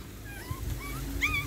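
American bully puppy whimpering: a few short high-pitched whines and yips, close and fairly soft, over a low background rumble, no talk.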